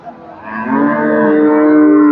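A Friesian cow lows at a busy cattle market in Chandaikona, one long, rising moo that swells and holds steady, close and loud, with no talk over it.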